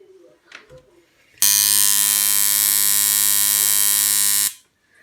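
A homemade tattoo machine powered through a foot switch made from found materials buzzes loudly and steadily for about three seconds, then cuts off abruptly. Faint handling noise comes before it.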